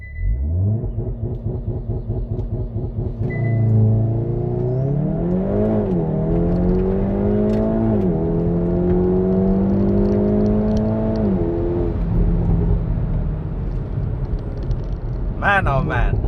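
A tuned Stage 2+ Hyundai i30N with traction control off accelerates hard from a launch, its engine rising through several gears in loud, close sweeping pulls with quick shift drops, and a voice speaks over the run.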